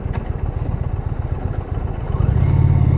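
A 2020 Indian Challenger motorcycle engine runs steadily while riding, a low rumbling drone that builds louder toward the end, with no talk.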